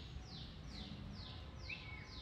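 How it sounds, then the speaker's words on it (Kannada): Outdoors, a bird repeats a series of bright descending whistled calls about every half second, moderately clear above a low steady background hum. "ಪಕ್ಷಿದ ಸೌಂಡ್ ಕೇಳಿ ಒಮ್ಮೆ."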